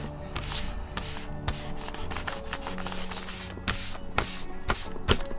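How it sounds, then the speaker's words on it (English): Excess Gelatos colour being wiped and scrubbed off a surface by hand, repeated rough rubbing strokes in an uneven rhythm, close and moderately loud with no talking. "just wipe the excess off, wasn't it? Quite a lot comes off if you scrub really hard"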